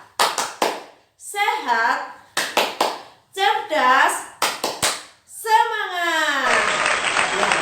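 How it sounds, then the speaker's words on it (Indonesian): A class of schoolchildren claps a rhythmic 'tepuk semangat' chant with their teacher, sharp bursts of group claps alternating with sung chanted phrases, ending in a sustained wash of applause; children's voices are heard throughout. "ayo kita tepuk dulu sebelum kita belajar"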